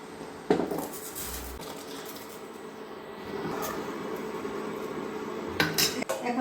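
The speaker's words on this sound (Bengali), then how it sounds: "জলটা ফুটে উঠছে, এখন দিয়ে দেবো আমি গাঠিগুলো।" Taro stems go into a pot of boiling water in a home kitchen, marked by a couple of sharp metallic clanks of pot and utensils, with a soft bubbling hiss between them.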